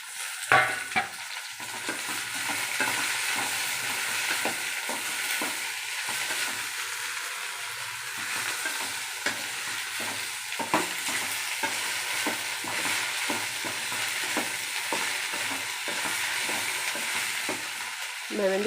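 Chopped okra stir-fried with sautéed onion in a pan, a continuous close sizzle and frying crackle broken by repeated scraping stirs of the spoon, with no talk.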